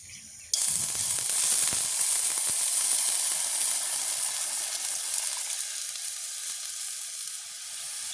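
A sudden loud sizzle starts as water hits a hot pan to make sugar syrup, then settles into a steady, close hissing bubble that fades slightly over time.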